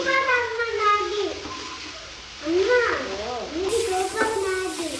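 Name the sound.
stirring Maggi noodles with egg and masala in a hot pan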